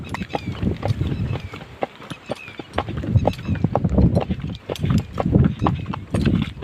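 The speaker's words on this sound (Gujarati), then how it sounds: "ત્રણ ઘોડિયા છે" Hooves of three horses clip-clop in quick, uneven rhythm on a ridden outing, fairly close, with people talking over the hoofbeats throughout.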